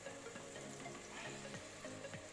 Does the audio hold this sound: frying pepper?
yes